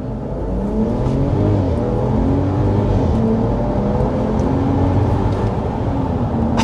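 A 2025 RAM 1500 Limited pickup with the high output engine accelerates hard, a loud, steady engine roar with rising harmonics climbing through the gears, heard from inside the cabin with no talk.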